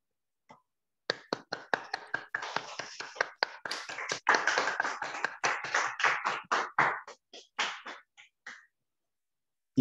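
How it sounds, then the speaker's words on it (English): Attendees of an online legal talk clap after a speaker's closing: a few dozen sharp, separate hand claps from a small group, close and fairly uneven, lasting several seconds, with no talking over them. "Just appreciate our speakers with a round of applause"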